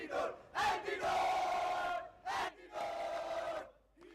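Esports arena crowd at a Valorant grand final roaring and cheering in loud swelling waves with short dips between, no clear speech.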